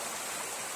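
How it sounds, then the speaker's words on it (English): A small waterfall in Labrador, a steady close hiss of rushing water with no breaks and no voices. "A nice little waterfall behind me."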